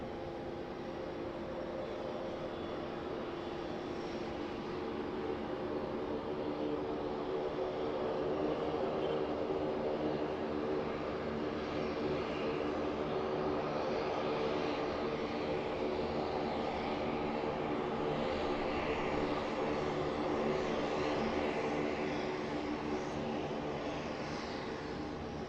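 Airliner engines roar steadily through a takeoff roll from a Sydney Airport runway, a broad sustained rumble and whine that swells slightly midway and holds, heard from a distance with no voices.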